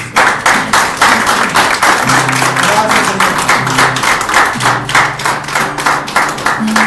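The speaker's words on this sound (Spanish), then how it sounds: "Un fuerte aplauso a Jesucristo." A church congregation claps together in rhythmic bursts, loud and close, with music playing underneath, and a voice speaks briefly near the end.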